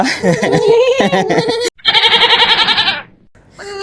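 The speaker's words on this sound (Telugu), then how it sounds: "రెండు బక్రా మేకలు అయితే ఉన్నాయన్నమాట" Two goats bleat loudly up close, with long wavering calls, one cut off by a brief silence before another sustained, pulsing bleat that fades, then a short final call.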